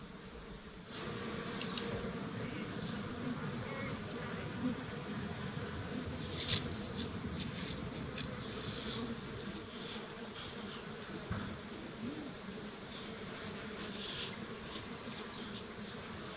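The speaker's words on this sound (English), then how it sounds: "if you stand back, you see the bees all going to a pine tree" Bees buzz steadily around a pine tree in the Australian bush, a dense continuous drone of many insects with occasional individual bees passing closer.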